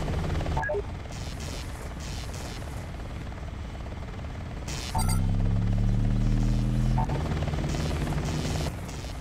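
An Apache helicopter in the video game Hostile Waters: Antaeus Rising makes a loud, steady rotor and engine drone, joined partway through by a stronger pulsing buzz and a few sharp impact bangs.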